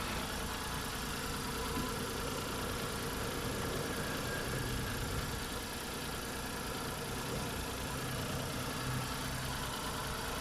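A Hyundai Eon car engine idles steadily throughout, with a low rumble and even hum and no voices.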